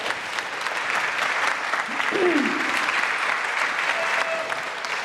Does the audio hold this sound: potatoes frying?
no